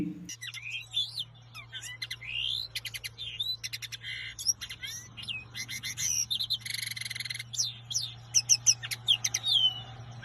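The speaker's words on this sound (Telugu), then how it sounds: "లిన్నెట్ అనే పక్షి కూడా మధురమైన స్వరంతో పాటలు పాడుతుంది" A linnet pours out a fast, varied song of rising whistles, trills and twittering notes over a steady low hum, fairly faint but continuous.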